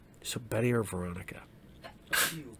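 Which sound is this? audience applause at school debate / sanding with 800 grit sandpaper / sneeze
sneeze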